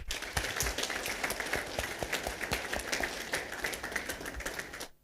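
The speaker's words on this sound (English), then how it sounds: "I want us to give these players a very big round of applause." Sustained applause from a crowd of dinner guests at a Gor Mahia FC end-of-season dinner, dense and steady hand clapping filling the room for about five seconds before stopping abruptly.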